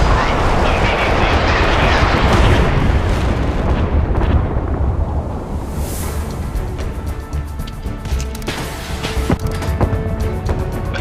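Warship cannon fire and explosions in the naval battle game Force of Warships, a dense, roaring wall of booms and rumbling blasts that stays loud throughout, easing slightly partway through.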